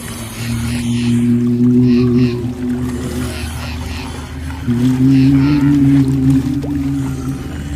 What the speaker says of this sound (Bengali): ও একজনের আওয়াজ নয়, অসংখ্য অশরীরীদের আর্তনাদ ওটা